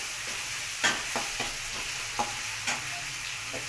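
Rotlo, a millet flatbread, cooks in a pan with salt added, giving a steady sizzle with a few sharp scraping stir strokes and clicks, close and fairly loud.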